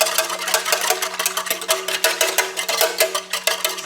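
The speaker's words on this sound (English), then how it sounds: "Give that a whisk." Egg being whisked into a white bread mixture in a bowl, a rapid, steady clicking and scraping rhythm close by, fairly loud and continuous with no voices over it.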